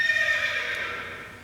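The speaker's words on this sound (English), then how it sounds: "That was a horse." A horse at a fair neighs in one loud, quavering whinny that fades out over about a second and a half, with no one talking.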